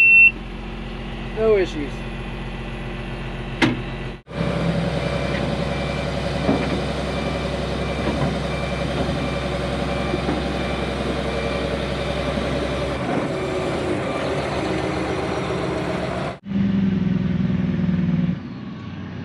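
John Deere 850J dozer cold starting and then running with a steady, loud engine drone that cuts off near the end. Talk is heard briefly, with faint beeps early on.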